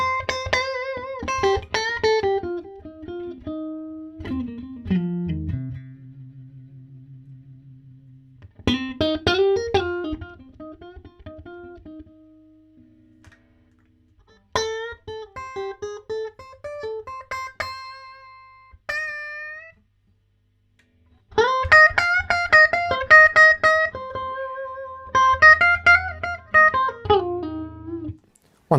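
An electric guitar through a '64 Custom Princeton Reverb, volume knob at 4, plays clean bluesy phrases with bends and ringing sustained notes separated by short pauses.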